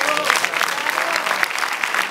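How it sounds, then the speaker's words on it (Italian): Audience applause at the Torino Film Festival screening of Mirafiori Luna Park, a warm, steady wash of clapping from a crowd filling the hall, close and sustained with some voices mixed in. "Un po' di applausi funziona sempre."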